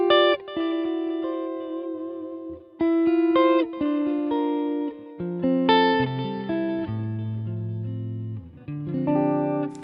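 Clean electric guitar through a Dumble-style amp model on a Line 6 Helix, playing a loud melodic phrase of sustained chords and single notes with a slight effects shimmer, alone.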